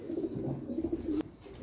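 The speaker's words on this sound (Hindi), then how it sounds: "ये मेन बड़ा कबूतर है" Low, repeated cooing from a large Kasuri Kamagar pigeon, close and steady through the short moment, with a brief sharp click partway and no talking.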